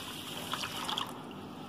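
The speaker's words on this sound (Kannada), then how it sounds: "ಈಗ ಎರಡು ಸರ್ತಿ ನೀರು ಹಾಕ್ಬಿಟ್ಟು ತೊಳೆದು ಇಟ್ಕೋತಾ ಇದ್ದೀನಿ" Water trickles and splashes into a pot of rice being washed for vegetable pulao, a soft continuous pour that ends with a brief louder slosh.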